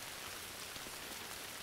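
Steady rain falls on a surface as a soft, continuous hiss of dense drops, faint and even throughout with no voices.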